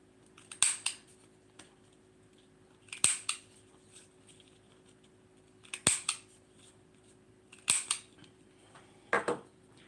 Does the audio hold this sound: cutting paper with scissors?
yes